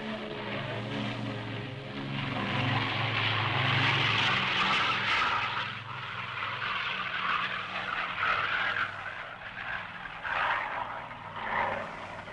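An aircraft takes off with a roaring engine that swells and holds loud and close, with a rushing, rumbling texture over a sustained low drone.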